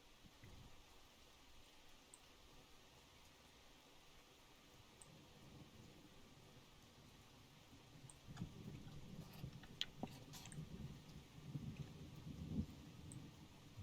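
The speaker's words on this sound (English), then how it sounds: "Here comes the storm." Rain and a thunderstorm in the Russian Fishing 4 video game, a soft steady patter that swells into louder rumbling thunder and heavier rain in the second half, with scattered crackles and clicks.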